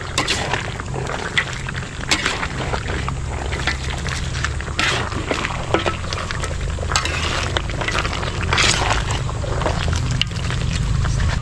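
Caldereta being stirred in a pan, with steady close sizzling and frying and the scrape and clatter of a spoon working through the stew, continuous and fairly loud.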